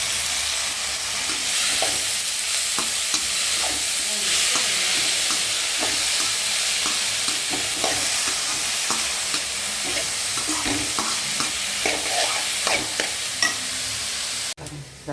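Cabbage sizzling in a hot pan while being stirred, with repeated scraping and clinking of a utensil against the metal over a constant frying hiss.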